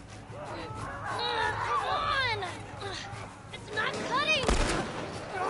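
Gunshots in The Last of Us Part I, a few sharp reports cutting through a busy mix of game sound and an excited voice talking throughout.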